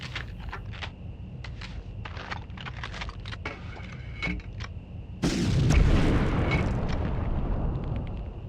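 Rocket launcher fire and explosions in the Medal of Honor (1999) video game: rapid game gunfire clicks and shots, then a loud, sustained blast rumbling on for several seconds.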